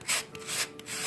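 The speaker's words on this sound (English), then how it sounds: "So we're just sanding them so that they're nice and smooth." Wood pieces sanded along their sharp corners and edges, quiet rhythmic back-and-forth rubbing strokes, close and alone.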